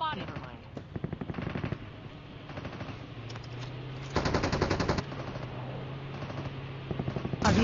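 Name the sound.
gunfire in Call of Duty battle royale video game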